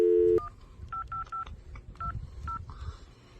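A telephone's dial tone cuts off and a quick series of touch-tone keypad beeps follows as a phone call is placed, all close and clear with no talking.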